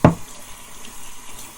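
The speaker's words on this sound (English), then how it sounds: "I'm going to rinse that stone off" Water runs from a tap over a sharpening water stone being rinsed, a steady close splashing stream after a brief knock at the start.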